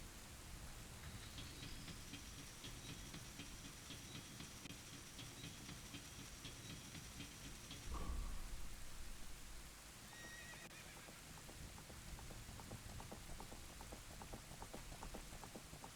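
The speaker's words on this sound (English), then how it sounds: "Dark clouds and thunderstorms are always a good sign." Steady rain with a broad rumbling wash in a thunderstorm in The Legend of Zelda: Ocarina of Time, with a horse whinny and clip-clop hoofbeats over the downpour.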